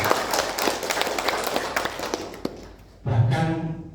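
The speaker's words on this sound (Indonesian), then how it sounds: "Tepuk tangan untuk semua." An audience claps during a discussion forum in a scatter of uneven hand claps with a few sharper thuds, fairly close. A louder, fuller burst of sound joins near the end.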